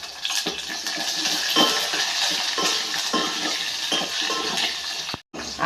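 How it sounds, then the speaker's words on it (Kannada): Onion and curry leaves fry in a pan with a little salt, giving a continuous bright sizzle broken by rhythmic stirring scrapes and a brief sharp cut-off near the end, no talking. "ಒಂದು ಅರ್ಧ ಈರುಳ್ಳಿ, ಒಂದು ಸ್ವಲ್ಪ ಕರಿಬೇವು, ಸ್ವಲ್ಪ ಬೇಯಿಸ್ಕೊಳ್ಳೋಣ."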